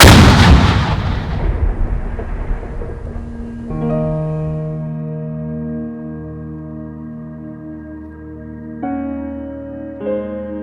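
A large explosion in Laos after a spoken countdown, with a loud, sudden blast that rolls off into a long, fading rumble while a steady tonal hum continues underneath.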